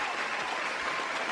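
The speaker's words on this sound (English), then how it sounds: "Round of applause." A brief burst of applause, a steady wash of clapping from a small crowd, heard close and moderately loud.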